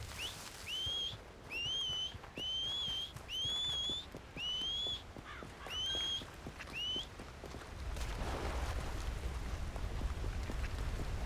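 Someone whistles a horse in a role-play video game, giving a series of rising two-note whistles repeated in quick succession, followed by a stretch of wind noise.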